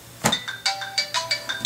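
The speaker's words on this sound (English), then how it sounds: "Oh, that's my phone." A mobile phone ringtone plays in a room, a bright rhythmic run of repeated electronic tones pulsing several times a second, fairly loud and close, with nobody talking over it.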